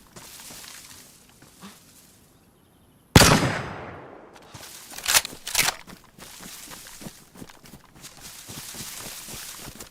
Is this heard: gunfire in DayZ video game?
yes